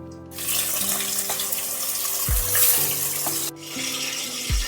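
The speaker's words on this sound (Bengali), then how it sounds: "বাকি মাছগুলো দিয়ে দিচ্ছি ভাজার জন্য" Bhetki fish pieces frying in hot oil in a pan, a dense close crackling sizzle that runs throughout with brief dips, alongside a low steady hum.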